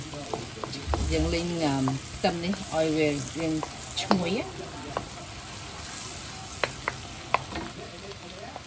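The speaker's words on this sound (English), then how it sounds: "You want to cook this until the aroma, smell the aroma of the garlic and butter." Garlic sizzles in butter in a pan over medium-high heat, a continuous close crackle and hiss that runs beneath someone talking early on and then continues alone with occasional sharp pops.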